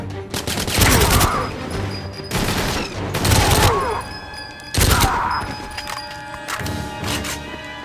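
Stalker gun fired in GoldenEye 007 on the Wii, loud bursts of rapid automatic shots in several separate volleys with brief pauses between, mixed with game impacts and background music.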